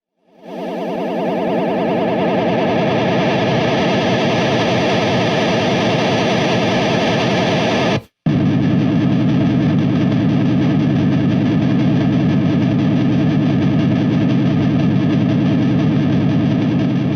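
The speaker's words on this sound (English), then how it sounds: "crazy space alien noises that the Kemper sends through the amp" Harsh, distorted electronic noise from a Kemper amp modeler roars continuously through an amplifier, cutting out briefly midway before resuming as a dense, buzzing wall of sound.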